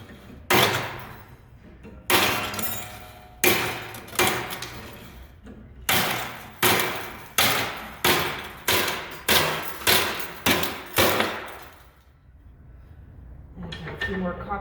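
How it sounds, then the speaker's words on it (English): Repeated sharp snaps as taut piano strings are cut at the top while dismantling a piano, about a dozen sudden cracks in a steady rhythm, each ringing briefly, close and loud. "as I'm cutting the strings at the top, these are just coming off right here and flying out"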